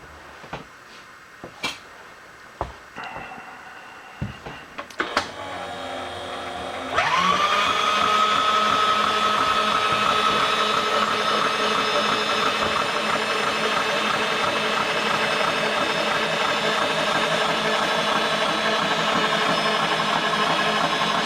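A Delrin hinge piece has its top shaved off. A few sharp clicks and knocks come first, then a loud, steady mechanical whine starts and runs on without a break to the end.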